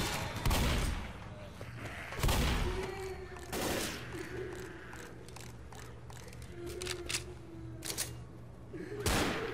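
Gunfire in the zombie shooter Left 4 Dead, spaced heavy shots and short bursts cracking out every second or two, loud and near, over a low game background with faint talk.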